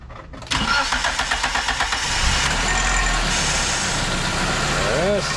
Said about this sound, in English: Start the car. Okay, now we're gonna test it,